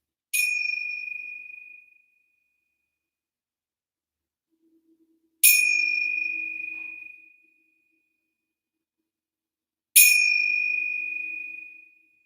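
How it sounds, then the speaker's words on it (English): Three clear meditation chimes ring out one at a time, spaced several seconds apart, each bright tone slowly fading into silence. "3 chimes to slowly bring you out back to sounds and sensations."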